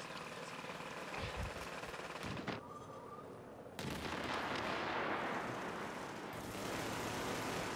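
Gunfire and a blast in the video game The Division, with sharp reports followed by a loud, broad burst that rumbles on for several seconds under battle noise.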